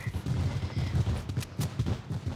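Rapid bursts of fireworks fired at opponents in the video game Fortnite, a dense crackling barrage that is loud and continuous throughout, with no talking.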